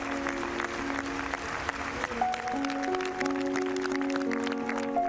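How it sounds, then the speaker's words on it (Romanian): Football fans applaud their late captain at a funeral in a packed square, sustained clapping from a large crowd, spread wide and steady throughout with background tones. "fanii Viola și-au aplaudat capitanul minute în șir"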